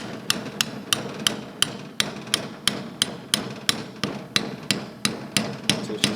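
Sharp metallic taps from a hammer striking an old socket to seat a valve seal on a small-block Chevy engine, about fifteen evenly spaced close blows, clear and ringing.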